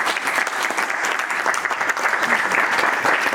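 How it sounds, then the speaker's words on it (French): An audience applauds steadily at a talk hosted by the Amis de l'Algérie in Rennes, a dense, even clapping that holds at full level throughout with no voices over it. "je pense qu'on peut les applaudir effectivement"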